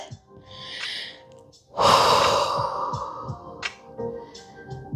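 Breathing while holding a high plank in yoga: a couple of close, heavy breaths, one sharp forceful exhale in the middle followed by quieter panting and soft snorts, with no speech.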